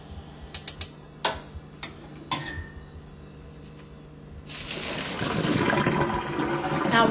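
After a few clicks and clanks, boiled broccoli is poured into a colander in a kitchen sink, making a loud, rushing splash of draining water that builds and continues to the end.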